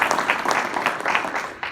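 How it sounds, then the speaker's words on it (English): An audience at a manufacturing technology panel applauds, with dense, steady clapping from a crowd filling the room at close range. "I'd like to force everyone to give them a round of applause."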